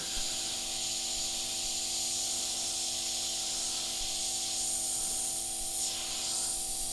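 An airbrush spraying transparent black paint, a continuous even hiss of air close up with a faint steady hum beneath, no voices.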